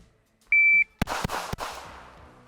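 A shot timer on a pistol range gives one steady electronic beep lasting about a third of a second. Moments later three quick, sharp gunshots from a Shadow Systems CR920XL handgun follow, each leaving a short echoing tail.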